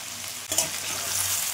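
Ginger paste with potato and pumpkin sizzles and fries in a pan. A sharp stir near the start is followed by a loud, steady hiss that continues alone.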